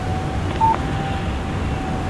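A short electronic tone chirps once as a phone text message alert in the Alan Wake Remastered video game, a brief clear beep over a low steady background hum.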